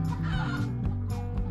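Several chickens cluck in quick, overlapping bursts, a busy cackling chorus with game sound in the background, from the mobile game Egg, Inc.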